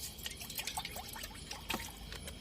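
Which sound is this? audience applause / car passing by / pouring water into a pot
pouring water into a pot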